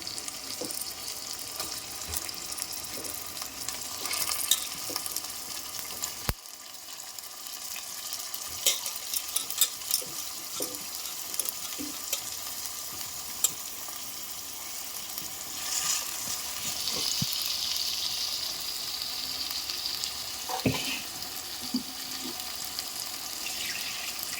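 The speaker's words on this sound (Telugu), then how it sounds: "ఉల్లిగడ్డలు అయితే మగ్గిపోయాయి. ఇప్పుడైతే మనం ఆల్రెడీ కలిపి పెట్టుకున్నాం కదండి, చికెన్ అయితే వేసేస్తున్నాము." Chicken frying with softened onions in oil in a pan, a steady loud sizzle with stirring scrapes throughout, no voices.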